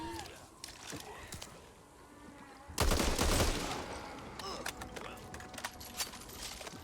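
Gunfire in the co-op zombie shooter Back 4 Blood, with a dense burst of rapid shots near the middle and scattered sharp single shots after it, over game ambience and some voice.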